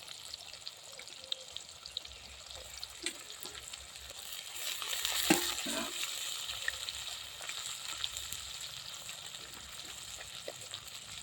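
Onions sizzle softly and steadily in a hot pan, with a louder hiss swelling briefly midway before settling back to a quiet fry.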